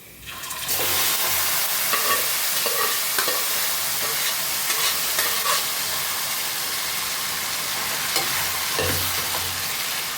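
Beef frying in hot oil with browned onions, a loud continuous sizzle and hiss with scraping stirs in a pan, close up throughout.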